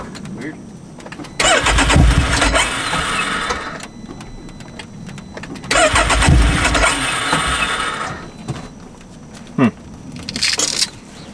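A Can-Am X3 XRS Turbo R being cranked, with two long starter grinds that fail to catch, then short stuttering bursts. People talk between the attempts.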